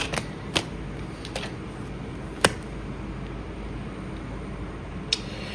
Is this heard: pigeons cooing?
no